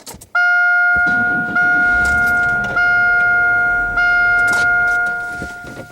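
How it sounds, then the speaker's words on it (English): A struggling starter on a 1995 Pontiac Grand Am cranks after a click, producing a loud, sustained whining drone with occasional knocks over about five seconds, then tapering off. "I definitely heard the starter that time kind of struggling"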